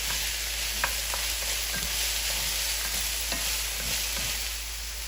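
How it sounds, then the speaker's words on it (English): Mushrooms with onions and garlic sauté lightly in a pan for hunter's style chicken, a constant close sizzle with small stirring clicks and scrapes, no talk. "let's go ahead and saute our mushrooms lightly"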